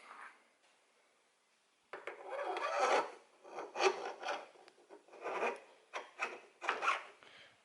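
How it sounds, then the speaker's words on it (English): A fork tube slides into the clamp of a Thumpstar TSX 140cc dirt bike, producing close, scraping metal-on-metal rubs in several short strokes after a quiet pause. "the fork tubes just slide in there by the look of it"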